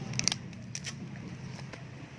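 A book's plastic wrapping is torn open by hand, giving a few crisp crackles and rips over a steady low background hum.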